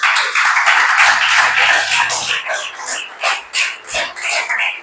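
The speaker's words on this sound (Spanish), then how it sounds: "Dale ese aplauso al Señor." A church congregation applauds together in praise, a dense run of many hands clapping that fills the space, then breaks into looser rhythmic bursts as it fades.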